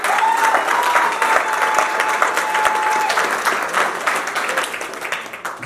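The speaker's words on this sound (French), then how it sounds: "on applaudit pour eux, s'il vous plaît" Guests at a civil wedding give the newlyweds a sustained round of applause, dense and steady throughout, with a faint held tone early on and slight fading at the end.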